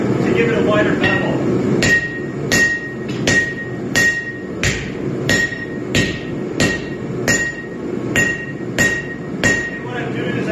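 The edges of a hand-forged two-handed cleaver are flattened with a heavy sledge, about a dozen loud ringing metal-on-metal blows struck at a steady pace, close by with no talk.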